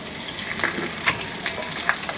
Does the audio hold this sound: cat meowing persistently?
no